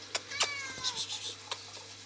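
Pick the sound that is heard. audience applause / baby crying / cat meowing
cat meowing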